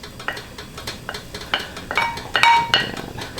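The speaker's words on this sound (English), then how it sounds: "Gonna let that cook, stir, and combine well." Spoon scrapes and clinks against a pot while Lao beef stew with flank and tendon is stirred, a run of uneven metallic knocks and short clanks close by.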